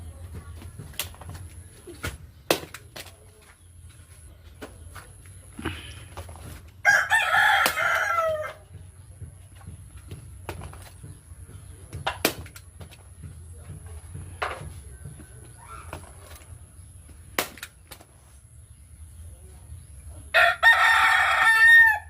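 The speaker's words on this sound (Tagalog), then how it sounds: "Ay, may manok pa." A rooster crows twice, fairly close, with short bursts separated by quiet; scattered clicks and faint background noise fill the gaps.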